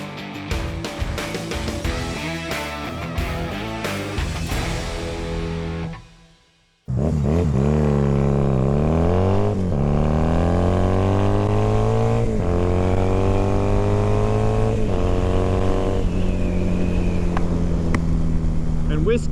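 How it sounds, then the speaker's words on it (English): A motorcycle rides along a road, with its engine climbing through a series of rising gear pulls after a brief drop-out, the exhaust note loud and close with constant wind rush. "Nice to be out on the bike."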